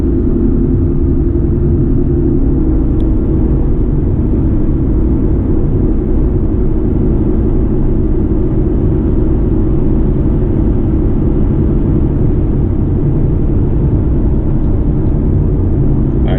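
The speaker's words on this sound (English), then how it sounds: "Picture the worst exhaust drone you've ever heard times 10." Heavy low exhaust drone hums loudly and constantly inside a Nissan 370Z NISMO on a highway, a deep, steady rumble with no breaks.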